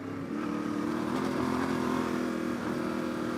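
A Yamaha T700 World Raid motorcycle engine drones steadily off-road, a loud, close, continuous mid-pitched hum that holds even before dipping briefly near the end.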